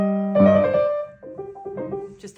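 A short piano passage from C.P.E. Bach's Solfeggietto, slowing slightly at a phrase end: a loud sustained low chord, then softer single notes stepping along with a small hesitation before the line resumes, played alone.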